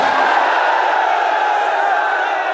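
A large crowd at a religious-political rally about Kashmir roars a slogan in unison, a loud, sustained wall of shouting voices with no pauses.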